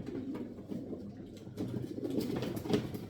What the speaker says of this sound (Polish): jest tutaj gołąbek, niesamowity pocisk